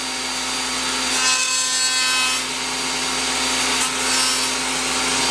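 A wood piece is pushed through a router-style round-over cutting blade that gives an eighth-inch round over, making a steady whining machine hum with a rising, rasping cut as the wood passes the blade. Nobody talks.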